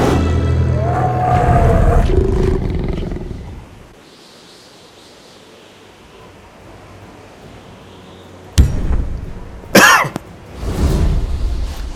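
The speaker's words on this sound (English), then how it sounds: "Apologize for the coughing." Harsh coughing and throat clearing close to the microphone, a run of loud coughs at the start, then near silence, followed by two more sharp coughing bursts near the end.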